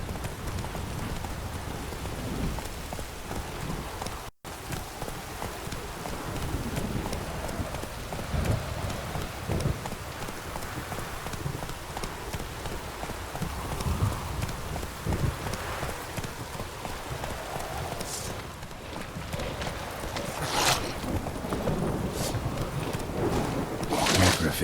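Roach the horse gallops in The Witcher 3 with steady rhythmic hoofbeats pounding close and loud, mixed with a rain-like wash of noise and some voices.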